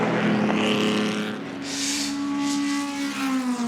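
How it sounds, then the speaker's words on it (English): Historic Ferrari and Aston Martin race cars on the circuit at the Goodwood Revival's Richmond Trophy, engines roaring close by with rising and falling pitch as they pass, no talk heard. "that allowed the Ferrari of Rob Hall through."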